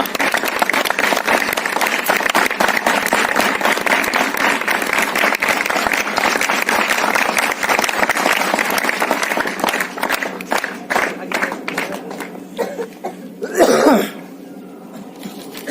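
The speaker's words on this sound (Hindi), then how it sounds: "सपना के लिए स्पेशल तालियां" Loud, continuous applause from a crowd at a school science festival in Uttarakhand, steady for about ten seconds, then fading into scattered claps and a cough near the end.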